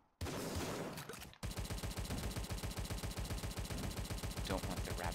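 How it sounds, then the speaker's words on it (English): Rapid Tommy gun fire with ricocheting bullets in the game Tesla vs Lovecraft, a steady loud automatic burst running almost without pause after a brief opening moment. "Ricocheting bullets."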